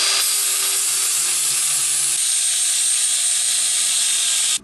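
Metal ground with a flap disc on an angle grinder while building a shop stool from an old truck seat, a loud, steady, close hiss-like grind that holds for several seconds, then cuts off sharply.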